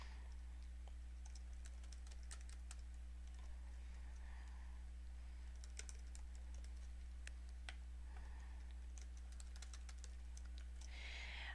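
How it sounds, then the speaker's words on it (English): Quiet typing on a computer keyboard, irregular bursts of light key clicks with short pauses, under a steady low electrical hum. "I can over here just type in something"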